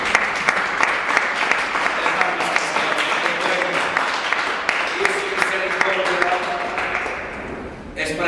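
A church congregation claps in praise during a Spanish-language service, loud dense applause with voices cheering and calling out underneath, dying away abruptly just before the end.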